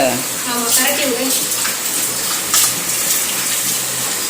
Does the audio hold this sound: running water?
yes